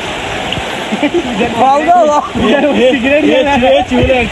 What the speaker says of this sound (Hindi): नहीं, फ्लोइंग वाटर है, इसके लिए we are not going there.